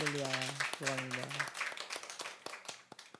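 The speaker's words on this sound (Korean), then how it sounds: "우리 신혼 부부가 신혼 여행을 잘 마치시고 돌아왔는데 환영의 박수 한번 드리겠습니다" After a brief voice, a church congregation applauds a newlywed couple, with a burst of scattered hand claps that thins out and tapers away.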